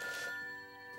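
A telephone bell rings once in a short, steady electronic trill, clear and moderately near, with no speech over it.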